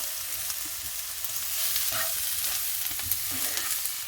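Sliced onions with brown sugar frying in a pan over lowered heat for a French quiche, a steady close sizzle with occasional stirring scrapes and no voices.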